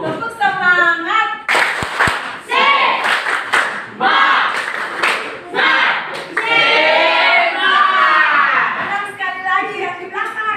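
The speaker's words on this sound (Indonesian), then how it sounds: "Untuk itu kita tepuk semangat saja ya anak-anak." Schoolchildren in a morning class perform the rhythmic 'tepuk semangat' spirit clap, bursts of patterned group clapping mixed with loud shouted chants and children's voices, with an adult voice speaking between segments.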